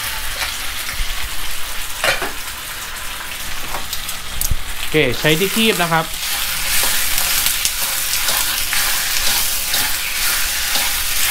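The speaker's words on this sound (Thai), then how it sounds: "เดี๋ยวเราจะผัดเส้นกันนะครับ" Noodles for Hong Kong-style rad na with marinated pork are stir-fried in a hot wok, giving a steady loud sizzle with scraping stirs and tong clatter, while someone speaks briefly over the cooking.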